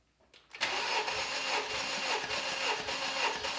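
Honda Civic Type R FK8 engine cranking on the starter during a compression test, a rhythmic whirring chug with steady pulsing beats, close and loud after a short quiet start.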